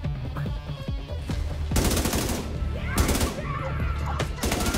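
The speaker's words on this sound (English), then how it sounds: "I'm gonna shoot one." Automatic gunfire in The Division 2 video game rattles in loud rapid bursts, with short pauses between volleys and a faint voice underneath.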